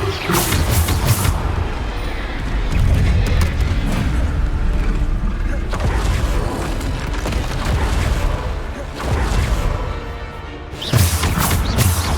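Bombarda spell explosions in Hogwarts Legacy, loud booming blasts and crashing debris that roll on continuously with dense rumbling impacts and brief gaps.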